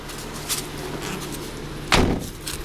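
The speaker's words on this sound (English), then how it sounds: "Doors sound disgusting because they're pillarless windows. Kind of rattles in there." A single door of a 2002 Subaru Outback shuts with a solid thump, followed by a brief rattle from its pillarless window, after faint clicks and handling noises in a quiet space.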